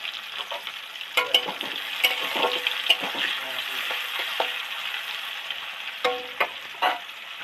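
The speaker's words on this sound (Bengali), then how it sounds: "এবার ওই তেলের মধ্যে পেঁয়াজ কুচিটা উঠিয়ে দিচ্ছি।" Chopped onion sizzles in hot oil in a pan, a steady close hiss broken by repeated scraping and stirring clatters, with a few sharper bursts near the end and no talking.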